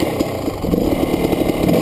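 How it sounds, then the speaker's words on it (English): A GasGas EC300 dirt bike with an autoclutch sits idling at about 1200 RPM, its engine giving a steady, continuous near chug with a mild, uneven pulsing throughout. "I set this bike to idle about 1200 RPM or so"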